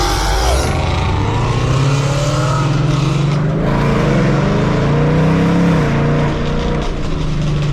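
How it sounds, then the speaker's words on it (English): Ford Mustang engine roaring loud and close on Detroit streets, a continuous throaty rumble with rising and falling revs throughout. "Y'all want to hear the engine."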